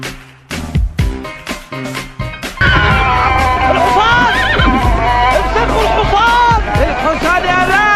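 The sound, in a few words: horse neighing sound in FC Mobile video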